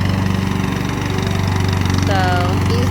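A lawn mower engine runs steadily up close while cutting a path through weeds ahead of fence building, a constant throbbing drone with a short whine near the end.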